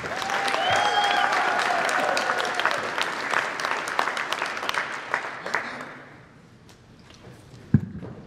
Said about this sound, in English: big round of applause for Caleb Grindstaff